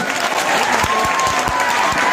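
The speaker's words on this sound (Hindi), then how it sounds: "एक बार जोरदार ताली होना चाहिए।" A burst of audience applause at a Ganesh Puja dance program, many people clapping loudly together for a couple of seconds.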